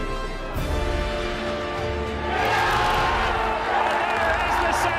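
Football crowd at Seaview stadium swells into a loud, sustained roar of cheering and shouting, a continuous wash of voices throughout with a commentator speaking over it.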